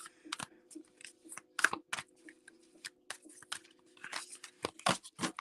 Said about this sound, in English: That's hard to even shuffle these.